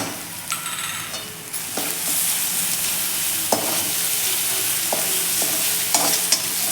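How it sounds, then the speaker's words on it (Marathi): Potato patty filling sautéed over a low gas flame with grated ginger, a steady close sizzle broken by repeated scraping stirs of the spatula against the pan, with no talking. "बारीक गॅसवरतीच आपल्याला हे सर्व परतून घ्यायचं आहे।"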